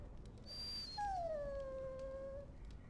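A dog whimpers in a video game set in a castle, with one long, falling, high-pitched whine after a thinner whistling cry, all over a steady low ambient hum.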